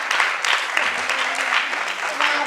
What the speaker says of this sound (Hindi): छोटे छोटे नन्हे कलाकार के लिए जोरदार तालियां बजती रहे तो अच्छा लगेगा